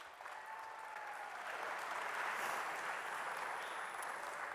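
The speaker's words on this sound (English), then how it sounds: "Yeah, you can clap for the seniors." Steady, sustained applause from an audience at a university student-athlete awards event honoring graduating seniors, a broad wash of clapping that swells slightly and holds, heard from within the crowd.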